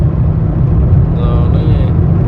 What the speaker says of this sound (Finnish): Kaasu on pohjassa koko ajan. Kaasu pohjassa. Kiihtyy.